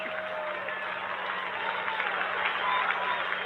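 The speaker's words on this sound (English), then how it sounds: "Even the marshals, everyone's laughing and applauding" A golf gallery applauds and cheers a Rory McIlroy shot, a steady wash of distant crowd clapping and murmuring that swells slightly toward the end.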